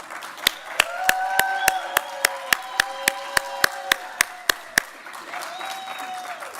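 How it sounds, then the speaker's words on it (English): Applause at a commencement ceremony, with sharp, evenly spaced claps near the microphone over a softer crowd clapping in the background, ending as the audience quiets. "Let's give them a round of applause"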